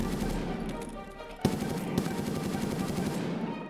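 Continuous rapid SCAR rifle fire in a shooter game, a steady close chatter of shots with a couple of louder cracks and no speech over it.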